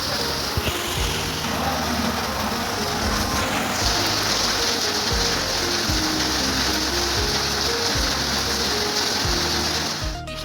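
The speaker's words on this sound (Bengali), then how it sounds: "বৃষ্টি এসে গেছে তাকে ঝমঝম করে" Heavy rain pours down steadily as a dense, loud wash of water that runs without a break, with a brief low thump near the end.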